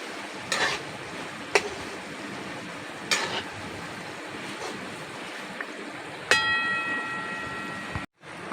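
Semolina biscuits deep-fry in oil with a constant bubbling hiss, broken by several clunks of a spatula or pan and a brief drop to silence near the end.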